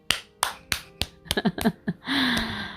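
A child claps their hands, first with four sharp, evenly spaced claps close up and then a quicker uneven flurry, ending with a short vocal sound.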